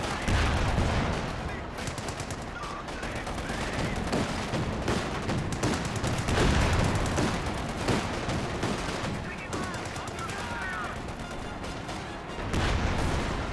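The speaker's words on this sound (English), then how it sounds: "And he does those high explosive rounds with the Sherman tank." Sherman tank in Company of Heroes firing high explosive rounds, a dense barrage of loud booming shots and blasts layered with other gunfire across the whole stretch, with a voice talking over the battle.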